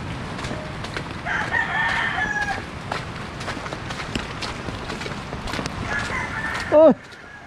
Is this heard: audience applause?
no